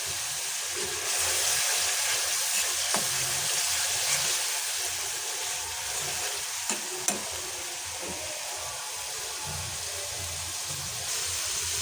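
Ground spices and bay leaf frying in a pan while being stirred for a potato, egg and pea curry: a steady close sizzle and hiss with occasional scraping clicks, continuous throughout, no voices.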